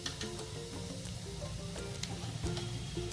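Red chili powder, added with turmeric and asafoetida, sizzles in hot oil in a pan for a mixed winter vegetable dish. The hiss is steady and close, with faint clinks and no voices.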